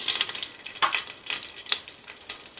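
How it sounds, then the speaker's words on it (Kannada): Curry leaves and spices frying in a pan, a crackling sizzle with sharp irregular pops and spits, close and fairly quiet, alone without voices. "ಕರ್ಬೇವಿನ ಸೊಪ್ಪು, ಮಸಾಲ ಪದಾರ್ಥ ಎಲ್ಲ ತುಂಬ ಚೆನ್ನಾಗಿ ಫ್ರೈ ಆಗಿದೆ"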